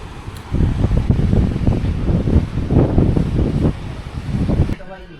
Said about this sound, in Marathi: आणि इकडं बघा हे झाडं वगैरे आहेत आणि ह्या बाजूला समुद्र किनारा